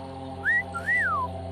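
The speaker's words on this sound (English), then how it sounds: "He whistled." A man's two-part wolf whistle, a short rising note followed by a longer rising and falling glide, heard close and clear over a steady low background hum.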